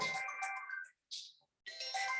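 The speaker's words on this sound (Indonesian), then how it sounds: "Terdengarkan ada panggilan telepon?" A phone ringtone plays in short melodic bursts, separated by brief silent gaps, as an incoming call rings nearby during a lecture.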